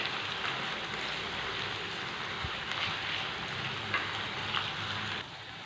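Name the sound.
gooseberry pickle ingredients sautéing in clay pot on low flame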